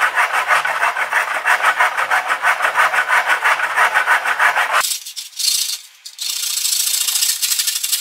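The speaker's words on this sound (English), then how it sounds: "I'm just gonna use the miter box" Hand saw cutting wooden dowels in a miter box, a steady rhythmic rasp of back-and-forth strokes close by, then a change to a brighter, scratchier rubbing near the end.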